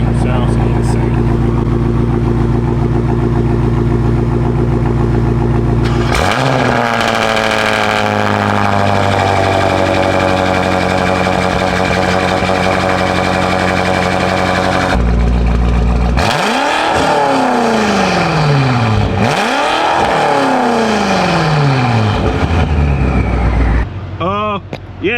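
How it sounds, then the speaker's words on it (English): A BMW with a Valvetronic exhaust fires up loudly, settles into a rumbling idle, then revs hard several times in quick rising and falling bursts, close by, with people talking over it. "I want y'all to hear this Valtronic start up real quick because this thing sounds insane."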